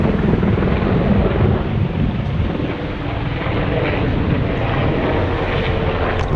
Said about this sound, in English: there's so many helicopters and shit today